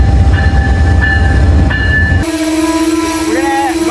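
Amtrak California Zephyr train rumbling loudly and steadily at close range, with a sustained horn-like tone sounding over the rolling noise in the second half.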